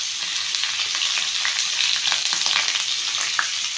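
Chopped onions frying in hot oil in a pan for Madurai-style egg mass, a steady close crackling sizzle with scattered sharp pops and light stirring scrapes, no talking.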